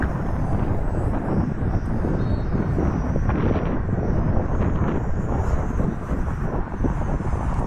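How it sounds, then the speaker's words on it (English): Strong, steady wind roars across the microphone at an outdoor RC flying field during the maiden flight of a Rage RC Focke-Wulf FW-190 model, with a loud, constant rumble and no clear pauses. "I'm sure it would fly so much better if it wasn't so dang windy out."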